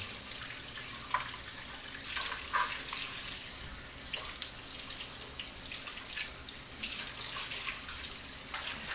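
Hot water runs steadily from a tap over juicer parts from a Green Star juice extractor being washed in a sink, a continuous hiss with occasional splashes and drips, no talking.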